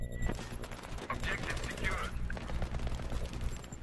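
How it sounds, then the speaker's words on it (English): Rapid bursts of .50 cal machine gun fire in Battlefield 3 on the Epicenter map, sharp repeated shots fairly close amid game noise, with players talking over the gunfire. "I got your back with a 50 cal here"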